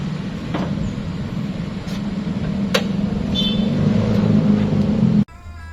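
A 2008 Toyota Fortuner 2.7 G with an automatic gearbox idles its 2.7-litre petrol engine up close, a steady even rumble that cuts off abruptly near the end.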